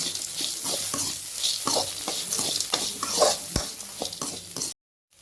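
Tamarind, salt, chili and garlic sautéing in a pan for mint chutney, a close sizzle with repeated scraping stirs of a spoon, ending abruptly in silence.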